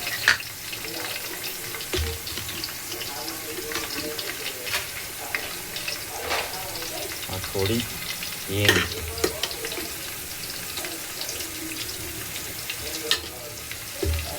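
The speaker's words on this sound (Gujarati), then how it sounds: "લવિંગ એલચી તીખા અને આ મોડા મરચાં નાખી દીધા છે થોડુંક અમથું પાકી જાય" Cloves, cardamom and chillies fry in hot oil, giving a steady, moderate sizzle throughout, with a few scattered clinks and scrapes from stirring and no talk.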